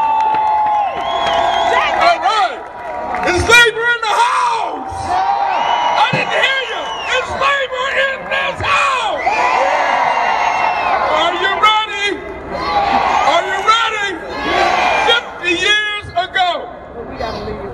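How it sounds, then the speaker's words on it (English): An outdoor crowd at a 2018 Memphis MLK march claps and cheers for a union president, with whoops, shouts and scattered applause rising and falling and loud voices mixed throughout. "Let's clap our hands for him."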